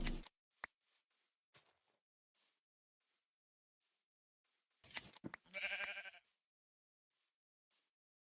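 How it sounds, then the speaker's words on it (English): Sheep bleating in Minecraft, a single nasal, wavering bleat standing out near the end amid otherwise quiet game ambience with a few soft clicks and taps earlier. "Come here, sheep."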